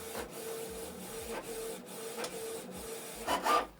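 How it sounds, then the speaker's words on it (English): A Canon Pixma TS3751i inkjet printer printing a page, quiet rhythmic mechanical whirring with regular clicks and feed thumps, rising to a louder burst of paper movement at the end. "So it's printing the second page."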